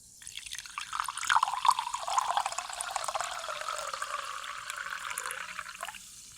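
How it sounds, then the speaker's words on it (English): Seltzer poured right onto a microphone: a close, fizzing splash that rises quickly and holds as a steady bubbling hiss before cutting off. "I'm gonna pour this seltzer into the microphone."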